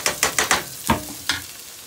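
Scallions and onion frying in a pan for Jamaican jerk chicken Rasta pasta, with a series of sharp scraping stirs over a soft sizzle, close and without talk.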